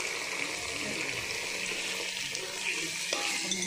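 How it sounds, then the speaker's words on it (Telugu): Chopped tomato sizzles in a hot pan for mushroom biryani, a steady hiss with soft stirring scrapes and a brief clatter near the end, heard close and moderately quiet. "టమాటా వేసుకొని ఫ్రై చేసుకోవాలి."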